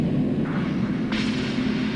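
A big synthesized explosion effect from a drum kit patch built from sampled storage-box sounds, one sustained booming rumble with a bright noisy burst partway through, loud and alone.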